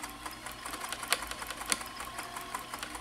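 A vintage Janome Combi DX 502 serger stitches through two thick fabric layers with a rapid, rhythmic mechanical chatter and a few sharper clacks as it strains, heard close and alone.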